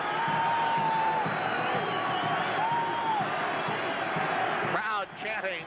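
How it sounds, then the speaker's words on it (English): A baseball stadium crowd at Len Barker's perfect game chants "Lenny" in a dense, sustained roar, with an announcer's voice talking over it. "Crowd chanting, Lenny, Lenny"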